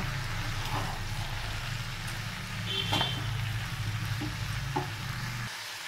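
Tomato and spices sizzling and frying in a pan as they are stirred, a steady low crackle with a few scrapes and clinks of the spoon against the pan, near and moderately quiet.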